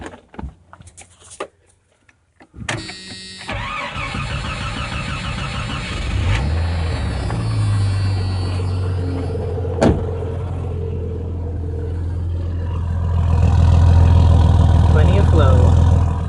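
A 1989 Jeep Cherokee with a home stick-welded exhaust cranks briefly, catches and settles into a steady, loud idle that swells toward the end, with short talk over the start.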